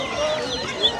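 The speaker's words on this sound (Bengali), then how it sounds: "এখানে অনেক সুন্দর কিছু ব্রাহ্মা মুরগি আছে" Light Brahma chickens at a poultry market give a brief cluck or two over a low, busy background hum.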